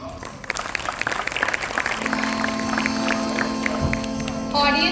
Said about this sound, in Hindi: तो एक बार जोरदार तालियों से शालेहा का हौसला बढ़ाएं